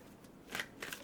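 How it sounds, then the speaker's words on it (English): Tarot cards being shuffled by hand, two short quiet bursts of riffling card noise about a quarter second apart, close and faint with no voice. "Let me shuffle and pull the third card."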